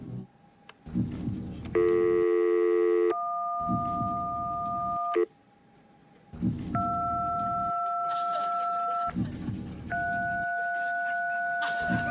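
A telephone plays a sequence of dialing tones, some long pure beeps and a dense chord, broken by short gaps, ending in repeating busy-signal tones, all loud and close with faint background noise.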